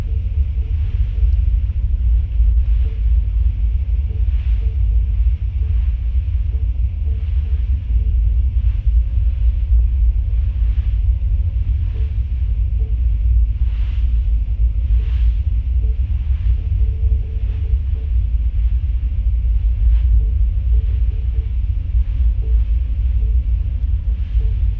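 Wind at Cape Horn, a heavy continuous low rumble and roar with steady gusting texture, loud and unbroken throughout.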